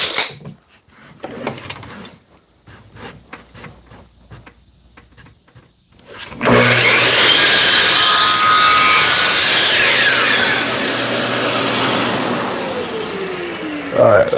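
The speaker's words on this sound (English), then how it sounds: "So I'm going to cut an 8 and 3/8 on the miter saw." A miter saw cuts a wood strip. The first six seconds hold quiet handling knocks and clicks, then the saw roars up loud and steady for the rest, easing off near the end.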